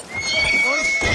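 A horse in the Battlefield video game neighs with a bright, wavering whinny as riding begins, while hooves clop beneath it, all close and loud within one short burst.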